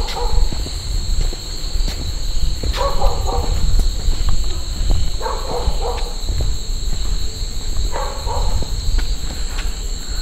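Frogs call on a mountain path at night, a few short croaking bursts spaced several seconds apart over a constant, dense whine of insects and steady outdoor noise.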